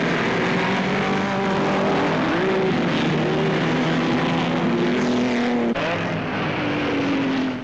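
Sports cars, Aston Martins among them, roar off from a Le Mans-type start at the Nurburgring 1,000-kilometre race, with several engines blending into a loud, sustained wail whose pitches climb and shift as the cars pull away.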